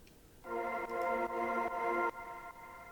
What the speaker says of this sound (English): So it's this kind of very lush reverby based effect sound